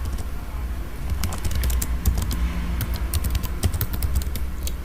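Rapid typing on a computer keyboard, a steady close patter of key clicks running throughout over faint background noise.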